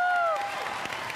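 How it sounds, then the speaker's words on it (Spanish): Studio audience applause on an Ecuadorian TV game show, a short burst of crowd clapping following a musical sting, moderately loud and steady. "vamos a desearle la mejor de las suertes a Maritza y la bienvenida con ese aplauso"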